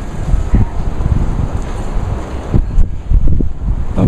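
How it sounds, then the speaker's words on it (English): Gusty outdoor wind buffets the microphone in steady rumbling waves, swelling and easing with a few stronger bursts, with no voices over it. "Boy, it is just windy."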